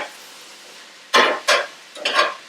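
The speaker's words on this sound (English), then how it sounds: "Go ahead and put those cubanelles in there, and let's give that a little stir." Three quick scraping stirs in a cast iron stir fry pan as cubanelle peppers are tossed, loud and close, separated by short quiet gaps.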